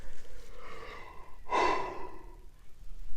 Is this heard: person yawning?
yes